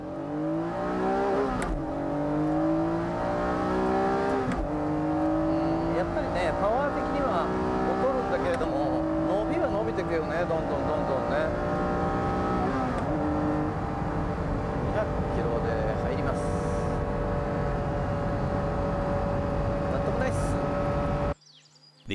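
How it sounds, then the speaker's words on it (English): A Honda NSX-R with a manual gearbox launches from a standing start, its engine note climbing hard through several distinct gear changes over about twenty seconds, loud and close, with a voice talking over it before an abrupt cut. "With great traction and lightness, the car starts off very well. The responsive manual gearbox and clutch accelerates the car effortlessly."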